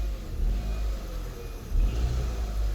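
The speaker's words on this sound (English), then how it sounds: "Now let me quickly show you why the engine vibrates." A Hyundai i10 with 350,000 kilometres on it runs with a vibrating engine, giving a low, steady rumble that swells briefly partway through, close and without talk.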